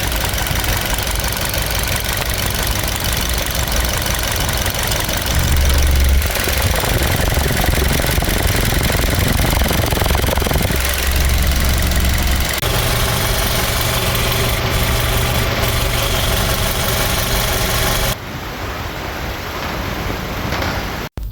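A Toyota Vios engine fresh from a general overhaul runs steadily at idle with an even, continuous mechanical drone and slight knock, close and alone, cutting off near the end.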